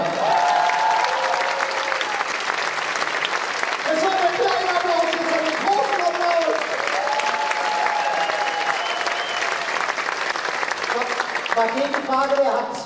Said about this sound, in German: Das ist ein kleiner Applaus wert, oder?